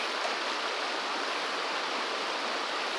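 A flowing stream in Georgia gold belt country where dirt is being washed off during gold prospecting, a steady broadband rush of water, even and continuous, fairly close, with no talking.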